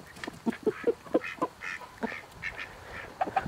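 Ducks on a homestead quack in a quick run of close, loud nasal calls, several overlapping, with a few softer quacks trailing off at the end.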